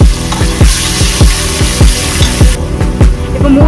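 Ground onion paste with ginger and garlic sautés loudly in a pan for Kerala-style mandi biryani, a steady sizzle broken by regular rhythmic scraping strokes of a spoon, close and continuous.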